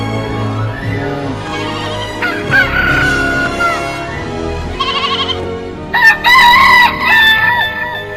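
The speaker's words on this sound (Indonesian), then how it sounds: "Pitik lemu-lemu." Farmyard chickens cluck near and far while a rooster crows loudly twice, with a goat or sheep bleating in the background and a steady outdoor hum underneath.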